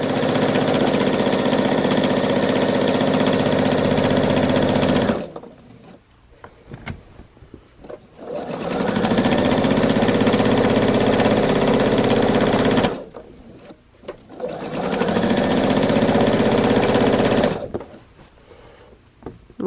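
Sewing machine stitching striped fabric borders for a quilt, loud steady whirring runs of several seconds each, broken by short pauses with faint handling noises in between.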